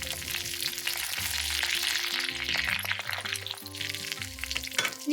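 Dried red chillies and curry leaves crackle and fry in hot oil for a Kerala mutton curry, a dense, fairly quiet sizzle with light stirring throughout, while someone talks over it.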